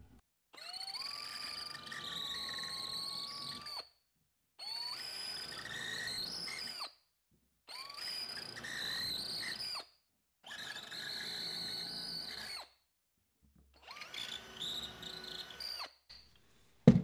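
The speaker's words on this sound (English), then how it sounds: "When I drill the holes, I'll let the bit start spinning before the bit hits the plywood" A drill bit bores shelf pin holes in plywood in five separate whining bursts, each rising in pitch as the bit spins up and cuts, with short silent gaps between them.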